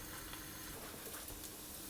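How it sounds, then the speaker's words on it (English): Bacon sizzles in a pan while being fried until crisp for a pea and bacon risotto, a faint, steady crackle throughout. "that's frying, and I'm just going to fry that until it's begun to crisp a little bit"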